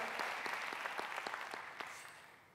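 A church congregation claps in praise of the Lord, a steady run of overlapping handclaps with sharp individual slaps standing out, fairly close and fading slightly toward the end.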